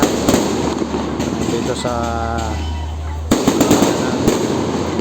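Loud fireworks bursting along a street in Indang, Cavite, with sharp cracks and booms at the start and again near the end around a steady crackle, while someone talks over them and a whistling rocket rises in the middle.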